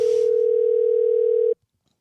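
A steady telephone dial tone sounds loud and unbroken for about a second and a half before stopping abruptly, followed by near silence, with no one speaking.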